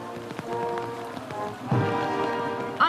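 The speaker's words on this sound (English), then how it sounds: "Under a heavy downpour" A heavy downpour falls steadily on the streets of Singapore as crowds gather, a dense, even wash of rain with a few louder splashes close by.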